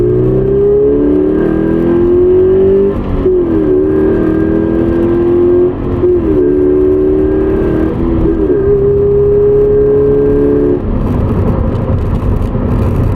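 A Subaru BRZ accelerates hard through its gears, the engine note climbing steadily in pitch, dropping briefly at each of several upshifts, then rising again; loud and close throughout, with no talking.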